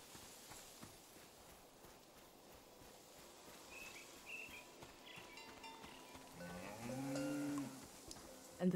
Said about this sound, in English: The name of this cow is TVC-15, oh my